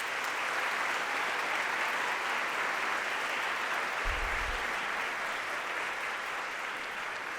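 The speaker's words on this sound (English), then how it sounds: "Please give them a big round of applause." Sustained applause from an audience at an evening awards celebration, a dense steady clatter of many hands clapping that fills the whole stretch at even loudness, with no talk over it.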